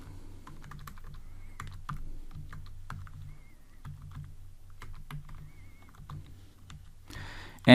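Typing on a computer keyboard while writing Android code: soft, irregular key clicks at close range against a low background hum, ending in a sudden louder noise.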